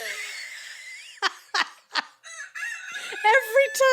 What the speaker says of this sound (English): Look at the rooster.